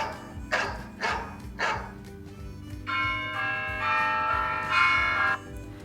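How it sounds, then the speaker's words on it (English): A bell-tower sound effect plays alone: several deep, resonant church bell strikes ringing in slow succession, then sustained overlapping tolls with a long humming decay. "A bell tower doesn't seem to work with what's going on."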